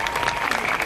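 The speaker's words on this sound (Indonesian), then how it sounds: "Tepuk tangan dulu dong buat Kapolres kita" A short burst of dense audience clapping at an evening gathering at a police headquarters, honoring the district police chief, steady and fairly loud for about a second.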